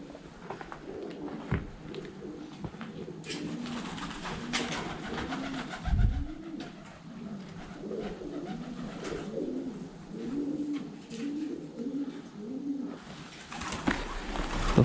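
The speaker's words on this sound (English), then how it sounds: "And the birds are wild." Pigeons coo steadily in a derelict 1920s Victorian schoolhouse, a rhythmic series of low rolling calls close by, overlapping and continuous, with occasional thumps and no speech.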